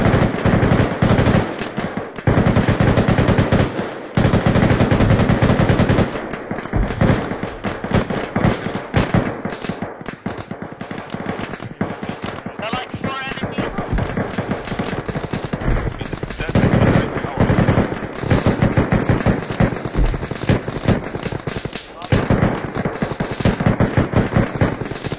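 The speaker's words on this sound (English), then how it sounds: "someone's shooting at me" Arma 3 gunfire in a military firefight near an airport: repeated bursts of automatic weapons fire and single shots crackle through a dense, continuous battle din across the whole stretch, with a speaking voice mixed underneath.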